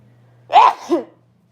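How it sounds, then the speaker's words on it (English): A single close, sharp sneeze bursts out of quiet, followed by a short breathy tail. "Hold on, I gotta sneeze."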